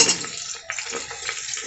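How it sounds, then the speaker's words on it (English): Chopped ginger, garlic and sliced onions sauté in a pan with a soft steady sizzle, a few light stirring scrapes and clinks breaking through, close and alone without voices. "we will add chopped ginger and garlic in it and we'll let them saute for 1 to 2 minutes"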